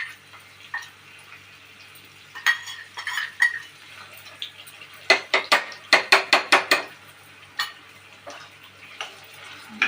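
Green chillies and amla pickle frying in oil in a pan, stirred with a spoon that clinks and scrapes in irregular bursts, with a dense run of sharp taps in the middle over a faint background.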